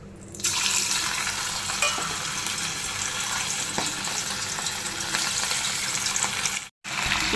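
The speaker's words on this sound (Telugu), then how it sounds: "ఇప్పుడు చికెన్ ఒక్కొక్క మొక్క కింద విడివిడిగా వేసుకోవాలి ఆయిల్లోని" Chicken pieces frying in hot oil, a steady loud sizzle filling the whole stretch with crackling bursts, cut off by one brief silent gap near the end.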